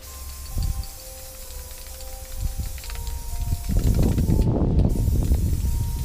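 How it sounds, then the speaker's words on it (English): Quiet shuffling and small knocks, then a loud, continuous hiss of an aerosol spray can painting work gloves bursts in and keeps going close by. "I take them out and spray paint them"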